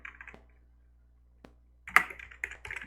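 Quick bursts of keystrokes on a computer keyboard, a short run of typing, a pause with a single click, then a faster louder flurry, close and quiet room.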